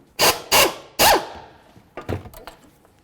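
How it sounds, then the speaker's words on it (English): A 10 mm tool loosens the brake hose bolt on a 2007–2014 Ford Edge during passenger-side shock work: three loud, close mechanical bursts, then a few lighter clicks and taps. "We're going to use a 10 millimeter and take that right off."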